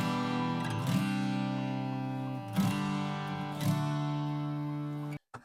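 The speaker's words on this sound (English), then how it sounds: "And then also we have acoustic guitars that come in" Acoustic guitars in an EDM worship song ring out in sustained chords with a few strummed accents, building steadily before cutting off abruptly near the end.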